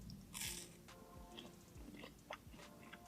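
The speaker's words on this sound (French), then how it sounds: "On prend le premier nugget. Il a l'aspect très croustillant." A crispy McDonald's chicken nugget bitten at a McDonald's in Andorra, giving a loud crunch followed by several close, crackly chewing crunches with no talking.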